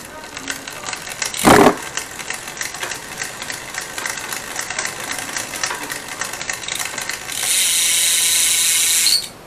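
Bicycle rear derailleur making an unnecessary clicking sound before barrel adjustment, a steady ratcheting tick from the drivetrain with one loud knock early on and a hiss near the end.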